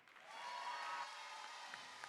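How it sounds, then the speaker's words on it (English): Audience applause at a FIRST robotics competition event in Philadelphia, a steady wash of clapping that swells quickly and holds for about two seconds at moderate distance, with no talk over it. "A round of applause for Team"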